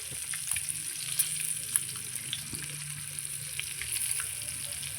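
Eggs fry in a pan with turmeric and red chili powder for an egg biryani, giving a steady, close, crackling sizzle with a few soft stirring scrapes and clicks and no talking.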